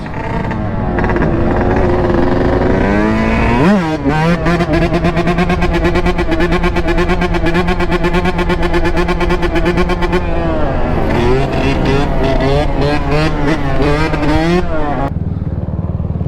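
Loud, close two-stroke dirt bike engine revs hard, climbing and dropping in pitch through repeated throttle blips and a sustained high rev before falling back to idle, with people talking now and then.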